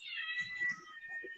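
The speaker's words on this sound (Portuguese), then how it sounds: "Tem um gato miando aí." A cat meows outdoors in a drawn-out, wavering cry that stays fairly close and moderately loud, while faint low murmuring sounds in the background.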